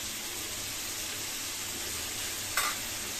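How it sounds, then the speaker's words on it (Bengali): Potatoes fry in a pan with a constant, close, bright sizzle, broken once by a brief sharp clink near the end. "এই আলু ভাজা করা হচ্ছে"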